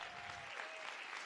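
Audience applause for third graders at an elementary school showcase, a steady dense wash of many hands clapping that sounds faint and distant throughout.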